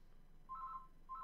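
Phone ringing as two short electronic tone bursts separated by a pause, faint and thin over a quiet background.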